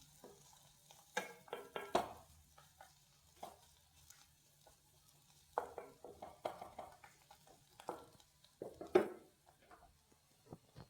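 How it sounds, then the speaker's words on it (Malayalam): Cooked jackfruit seeds being stirred in a pan for a jackfruit-seed upma: quiet, scattered scraping and clinking strokes in short irregular bursts, with soft sizzling between them. "ചക്കക്കുരു ഇളക്കി കൊടുക്കാം"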